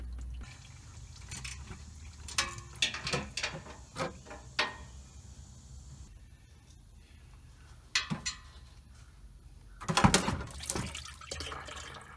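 Transmission fluid drains from the pan of a Ford F-150 during a filter and fluid change, a quiet trickle and drip broken by occasional clanks and handling noises nearby.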